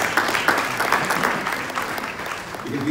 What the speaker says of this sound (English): Once more, a round of applause.